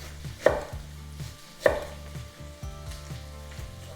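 A knife chops food on a board in a home kitchen, several distinct thuds spaced irregularly, two louder strikes, over a faint background hum.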